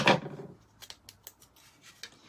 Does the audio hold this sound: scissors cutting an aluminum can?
yes